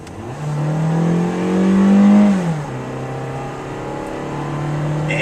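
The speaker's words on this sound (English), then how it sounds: "I'm going to start out at about, this is at 25 miles per hour, and I'm going to hit the gas" A 2010 Toyota Matrix four-cylinder car accelerating hard from 25 mph, the engine note rising through a gear change and then climbing again, heard close from inside the cabin with no talking.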